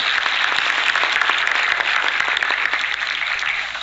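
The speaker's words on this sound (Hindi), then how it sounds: "जोरदार तालियां।" Applause at a panchayat women's empowerment video conference: a dense, steady crowd clapping that stays loud for the whole stretch with no talk over it.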